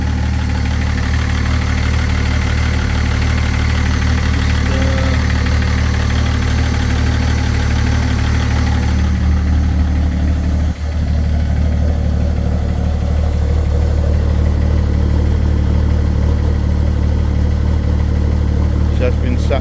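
A 1983 Ford F150 with a converted pre-LCI BMW twin-turbo diesel engine, sat unused for over a year, idles steadily and loudly on its first start, with a continuous low drone and people talking over it.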